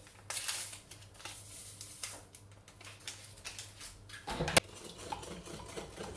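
A utensil stirs cake batter with vanilla sugar in a bowl, giving faint scraping and clinking against the bowl's sides, with a sharper knock partway through.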